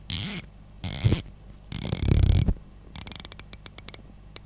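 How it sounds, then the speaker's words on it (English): An Addiesdive AD2034 chronograph's mineral crystal bezel is twisted and gives firm clicks. Bursts of grinding ratchet noise are followed by a quick run of crisp, close individual clicks, with no speech. "Those clicks feel so strong that the whole watch feels like it's vibrating when I twist the bezel"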